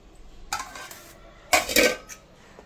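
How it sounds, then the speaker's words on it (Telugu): Brinjal pieces are dropped into a bowl in two quick clattering bursts, each a short knock of pieces and utensil against the dish with a quiet pause between. "ఈ వంకాయ ముక్కలు ఇందులో యాడ్ చేసేస్తున్నాను."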